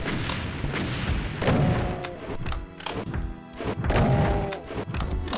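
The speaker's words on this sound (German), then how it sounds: "Ich werde dich erstmal mit der Schrotflinte bearbeiten" Shotgun blasts in the video game Doom, two heavy booming shots around mid-clip layered over dense game music and effects, loud and close.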